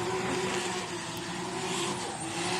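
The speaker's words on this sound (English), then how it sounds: "Good control, lots of throttle input from Stan." A race car roars on a circuit under heavy throttle, its engine holding a loud, steady high drone with a light ripple of tire and track noise, no voices.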